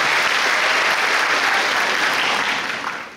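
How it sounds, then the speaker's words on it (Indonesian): Audience at a church sermon gathering breaks into loud, dense clapping that holds steady for about three seconds before tapering off. "Please give yourself a big hand."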